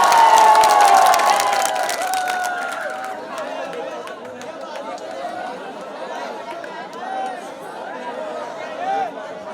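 Mushaira audience in Rajupur greeting a poet with applause and cheers, a loud burst of clapping and shouting at the start that fades into ongoing crowd chatter and murmuring.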